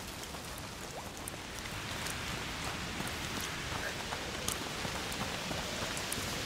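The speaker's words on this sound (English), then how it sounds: "Foul rain." Foul rain in the video game A Plague Tale: Requiem falls steadily, a dense hiss of drops spattering on surfaces that grows slightly heavier partway through.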